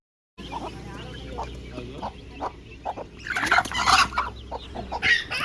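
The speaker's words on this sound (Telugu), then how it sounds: "మా అమ్మ వాళ్ళ ఇంటి దగ్గర ఇలా చిన్న చిన్న కోడి పిల్లలు అయితే ఉన్నాయి" Small country chicks and hens cluck near a house, with a steady run of short, evenly spaced clucks that gives way to a louder, denser burst of chirping calls up close.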